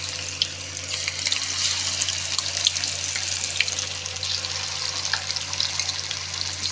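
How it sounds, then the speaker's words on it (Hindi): Marinated boti pieces frying lightly in hot oil, giving a dense, continuous crackle and hiss up close with scattered pops and no voices. "बस जैसे ऑयल गर्म होगा तो आपने इसको हल्का सा फ्राई कर देना है"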